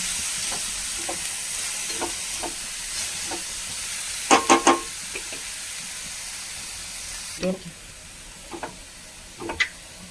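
Cabbage stir-fry with grated coconut is stirred in a pan, a soft sizzle and hiss punctuated by scattered sharp clinks and a quick cluster of scraping taps, close and clear with no talking.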